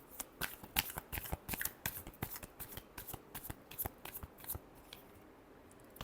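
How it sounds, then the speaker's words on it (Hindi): Tarot cards shuffled by hand make a quick, close run of crisp riffling flicks and slaps in an uneven rhythm, thinning out toward the end, with no talking. "Last shuffle."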